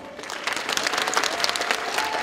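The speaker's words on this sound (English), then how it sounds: "it is their turn to give you a big round of applause" Graduates at a Fremont College commencement applaud their families, a broad wash of many hands clapping at moderate distance, swelling slightly and holding steady with no talk over it.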